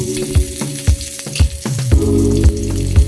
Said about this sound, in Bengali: সেখানে আমরা পেঁয়াজটাকে বেরেস্তা করে নেব।